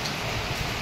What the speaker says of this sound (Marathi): आणि पाऊससुद्धा आता तुफान आलेला आहे जोरदार